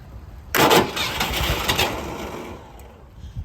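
A car engine turns over and catches on a cold start, a sudden burst of cranking and firing that settles into a rough, fading idle, close and loud.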